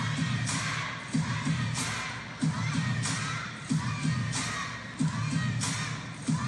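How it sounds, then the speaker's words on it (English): A large arena crowd cheers and chants in rhythmic surges at the Europe Smash table tennis women's singles final, loud and continuous, with bursts of cheering recurring about every second and a quarter. "You can hear the crowd."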